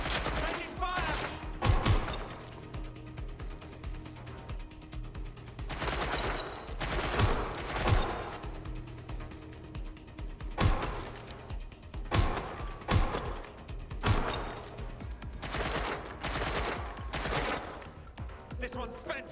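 Gunfire in the video game Watch Dogs Legion comes as repeated loud bursts of automatic shots and rattling volleys, close and intense, with short pauses between them and faint game dialogue underneath.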